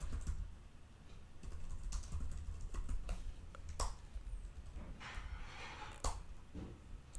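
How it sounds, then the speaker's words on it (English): Fast typing on a computer keyboard during programming work: rapid, irregular clusters of close, quiet key clicks with occasional sharper taps, and no voices. "I'm trying to type fast, but accuracy is definitely missing out."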